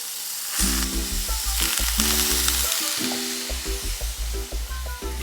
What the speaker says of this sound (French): Notre huile est assez chaude. Maintenant, je mets les crevettes.